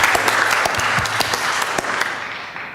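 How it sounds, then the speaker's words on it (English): Dense audience applause at a panel discussion, a steady wash of many hands clapping with sharp individual claps standing out, fading slightly toward the end. "you can applaud again"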